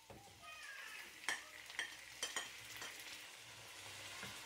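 Shredded tomatoes frying in a pan for Spanish paella, a steady soft sizzle broken by several scraping stirs and utensil knocks, fairly faint and with no voices.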